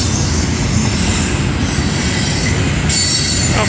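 A CSX double-stack freight train rolls past near Pittsburgh, its wheels squealing in a loud, steady, continuous screech over the rumble of railcars, with no voices.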